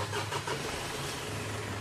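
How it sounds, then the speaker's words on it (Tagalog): Mitsubishi Strada pickup engine starting after an oil change and flush, a close, steady mid-pitched rumble that settles into an idle, with no talking. "pwede mo na ngayon i-start itong makina"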